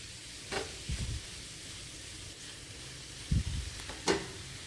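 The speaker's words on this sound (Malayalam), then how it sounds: "വഴറ്റിക്കൊണ്ടേയിരിക്കുക." A carrot mixture sautéed in a non-stick pan gives a soft, quiet sizzle, broken by a few short scraping stirs of a spatula spaced a second or so apart.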